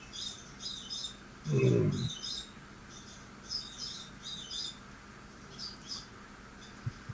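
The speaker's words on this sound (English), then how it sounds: "I can hear the birds." Small birds chirp in short, repeated bursts through a quiet outdoor scene, with one brief low voiced murmur partway through.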